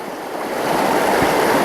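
Water rushes steadily through a gold sluice, a dense, loud, continuous wash that swells slightly, with no talk.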